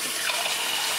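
Water pours steadily into a cooking pot for a potato and rib stew, a dense, even splashing rush close by and loud through the whole moment, with no talking over it.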